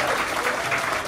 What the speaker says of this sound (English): can I give a big round of applause once again to New Tour Field?